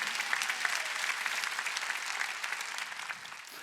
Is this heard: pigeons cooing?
no